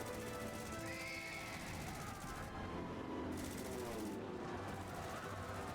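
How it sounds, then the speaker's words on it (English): Cannons fire in a Final Fantasy XIV battle, a dense, steady barrage of booming shots that rolls on without a break, mixed with clattering action and the game's own noise. "All cannons resume firing!"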